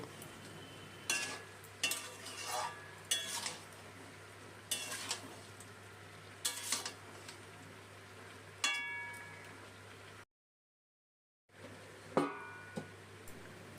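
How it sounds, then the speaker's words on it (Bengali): Spices are stirred into vegetables and chicken for a chicken stew in a pan, giving intermittent scraping and clinking spoon strokes over a low sizzle, close and moderately quiet, with a brief gap of silence. "এখন এই সব মশলাগুলো ভালো করে সবজি আর মাংসের সাথে মিশিয়ে নিই কষিয়ে নেব"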